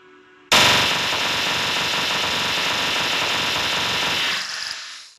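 Rapid automatic gunfire from a gun mod in Minecraft bursts in loudly after half a second of quiet, then rattles on as one dense, continuous stream before easing off near the end.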